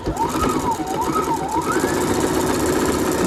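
A sewing machine stitches a fabric mask with batting inside, giving a fast steady mechanical whir and rattle at close range with a faint varying tone over it.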